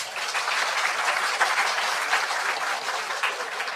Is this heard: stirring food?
no